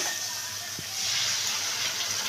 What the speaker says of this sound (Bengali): মিক্সি ধোয়া জলটা দিয়ে দিলাম